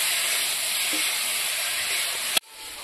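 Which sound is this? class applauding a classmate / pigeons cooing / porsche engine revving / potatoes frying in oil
potatoes frying in oil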